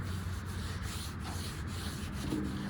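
Rust is rubbed off the engine bay of a Squarebody truck with a steady, coarse scraping friction that runs continuously and close, loud and alone with no talk.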